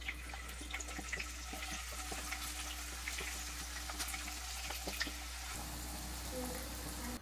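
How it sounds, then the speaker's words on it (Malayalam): Chicken pieces frying in hot oil in a kadai, giving a steady, close crackling sizzle with small pops throughout and a faint low hum underneath, no voices. "എല്ലാം ഇതുപോലെ തന്നെ ഫ്രൈ ചെയ്തെടുക്കാം."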